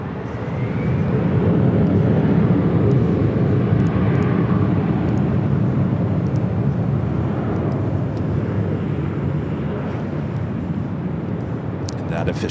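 An airliner takes off from runway 24 left at Los Angeles airport on a warm afternoon, a steady broadband jet roar that swells early and holds loud and continuous, with a voice talking over it.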